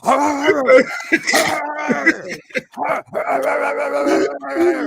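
A voice imitates a big dog, growling and barking in rough, throaty bursts over nearly five seconds, loud and close.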